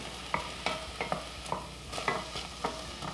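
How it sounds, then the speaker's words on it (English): Mushrooms sautéing over medium heat in a pan with a splash of water, giving a soft steady sizzle broken by a string of stirring clicks and scrapes at a fairly regular pace, close and moderately quiet with nobody talking. "So I'm just going to let these saute for a couple of minutes."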